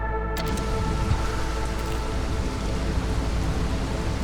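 Steady, dense downpour rain from the video game Against the Storm hisses continuously and loudly throughout, a constant even wash of rainfall with no talk over it.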